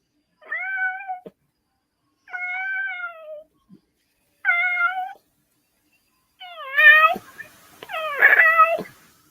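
A cat meows five times in drawn-out, whiny calls spaced about two seconds apart. It is close and clear in an otherwise silent room, and the last calls are louder and more strained.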